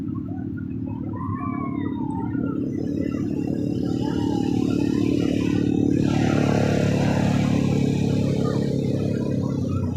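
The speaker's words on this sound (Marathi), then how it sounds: "मोटरसायकल इकडे आहेत बघा" A steady motorcycle engine drone runs throughout, loud and close, mixed with busy outdoor noise and faint high whistling sounds.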